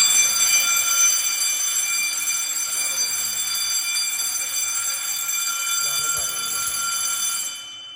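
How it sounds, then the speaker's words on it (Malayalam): A loud, continuous electronic alarm tone from an Asenware fire alarm panel blares steadily for several seconds, with faint talk underneath, before cutting off near the end. "10 സെക്കൻഡിനുള്ളിൽ അലാറം സ്റ്റാർട്ടാവും"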